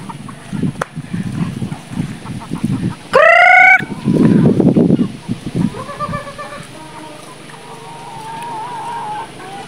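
Geese squabbling over cabbage peels in a garden, with loud close honks and harsh calls breaking out in bursts, one sharp rising honk standing out, then softer scattered calls as the scuffle settles.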